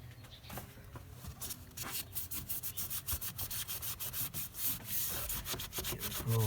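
A rag wipes briskly over the top of a BMW power steering reservoir and its cap, close rhythmic rubbing strokes that speed into a steady back-and-forth scrubbing.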